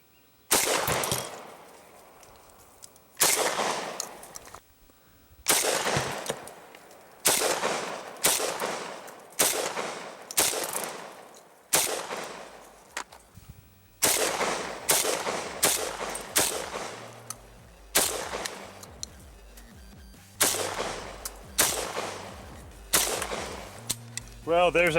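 Gun with a 20-shot drum magazine firing at a book, sharp loud shots in irregular bursts and single reports spread across the stretch, each followed by a short decay.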